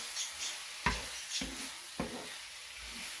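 Squid going into a hot pan with tomatoes for homemade squid adobo, a constant soft sizzle broken by three distinct knocks of a utensil stirring against the pan.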